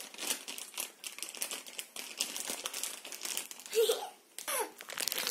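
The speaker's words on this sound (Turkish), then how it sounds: "Paketi açalım tamam mı?" A sour candy packet of colorful jelly sweets being opened, with repeated close crinkling and crumpling of plastic wrapper and faint children's voices in the background.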